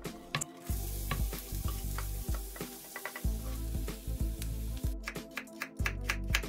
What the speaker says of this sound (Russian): Отправляем порезанный лук в сковородку.